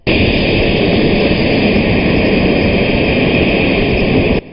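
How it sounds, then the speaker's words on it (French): The special jet of the Portuguese president taxis on the tarmac at Dakar airport, a loud, steady, close roar of jet engines that holds constant before cutting off abruptly. "l'avion spécial du président portugais avait fini de s'immobiliser sur le tarmac de Dakar"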